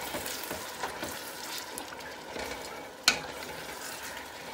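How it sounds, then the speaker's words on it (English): Diced potatoes sauté in a pan for Greek-style green beans with potatoes, giving a steady close sizzle with soft scraping stirs and one sharp utensil knock near the end. "I've thrown in all our potatoes. And I'm just going to stir them up."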